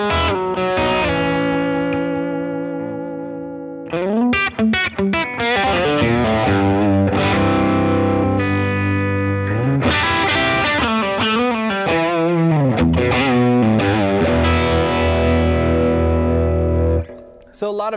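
Electric guitar played through a Blackstar St. James amp on its EL34 power-tube setting, mids brought back and bass boosted fully, ringing out loud, distorted chords and riffs with brief pauses and no voices over it.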